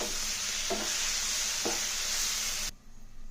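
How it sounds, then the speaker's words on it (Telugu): Egg and onion curry stirred in a pan after chili powder and salt go in, a soft scraping stir with faint sizzling underneath and two brief clinks of the spoon, stopping abruptly near the end. "కారం వేసి చక్కగా కలిపేసి ఒక నిమిషం మూత పెడదాం"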